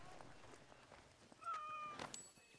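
A cat meows in Assassin's Creed Origins, a few soft calls followed by a clearer, longer meow near the end, with faint background game ambience.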